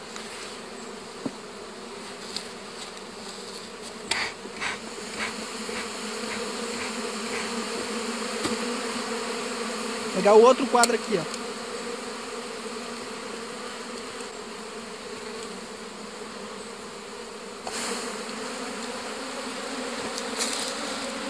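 Honeybees buzzing steadily on a hive frame of new paraffin wax comb, a dense continuous hum up close, with a short louder flurry midway and someone speaking briefly.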